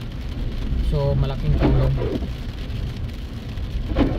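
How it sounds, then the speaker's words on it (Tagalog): Steady rain falls in Canada, a soft continuous hiss lasting the whole stretch while someone talks over it. "Parang hanggang bukas to yung ulan."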